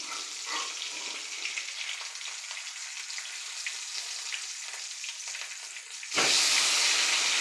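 Pomfret (chandwa) fish frying in a pan gives a steady, close sizzle throughout, getting louder and brighter near the end as the pieces are flipped. No one speaks.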